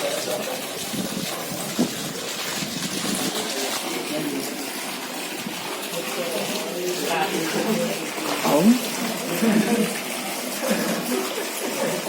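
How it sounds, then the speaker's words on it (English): Water from the Vashisht hot springs near Manali rushes and splashes steadily close by, a continuous bubbling flow with a voice talking over it. "These are the hot water springs."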